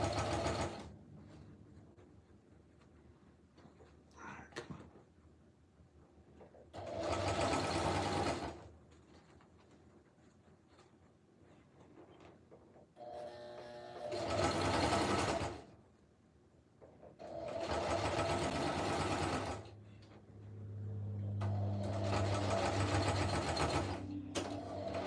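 A sewing machine stitches a camo helmet cover in four loud bursts of rapid, even needle chatter, each a few seconds long, separated by quieter pauses with light handling of the fabric.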